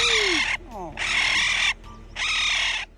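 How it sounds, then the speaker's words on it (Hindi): A baby raccoon found at a roadside cries much like a human infant, giving three long, loud wailing cries separated by brief pauses, heard up close with no other sounds. "जरा इस बेबी रकून को देखिए जो बिल्कुल किसी इंसानी बच्चे की तरह रो रहा है।"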